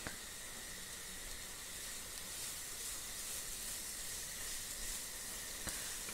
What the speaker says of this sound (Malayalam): ആ സവാളയൊക്കെ നല്ലപോലെ വഴന്ന് കിട്ടണം